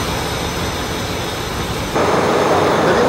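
A ship's main engine gives a loud, steady roar that fills the space with broadband noise, growing slightly louder and rougher partway through, with no voices.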